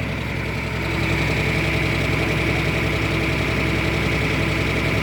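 A steady mechanical engine drone from a roughly 100-year-old antique engine at a vintage machinery show idles on without pause, with a rhythmic low chugging and a constant higher whine running throughout.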